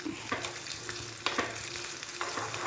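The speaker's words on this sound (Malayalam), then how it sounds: "നമ്മുടെ വറവ് ഇവിടെ മൂത്ത് വന്നിട്ടുണ്ട്" A tempering for erissery curry frying in hot oil gives a close, dense, crackling sizzle, with a few sharper bursts as the pan is stirred.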